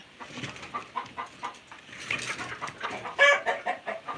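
Chicks in a brooder on a rural South Dakota farm, a close chorus of soft clucking and cheeping with a brief louder chirping burst near the end, no talking.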